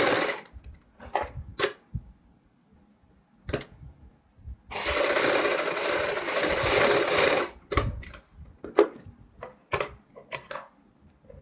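A sewing machine stitches a baby frock in short stop-start bursts, then one long loud continuous run of rapid stitching in the middle, followed by more brief clattering spurts close by.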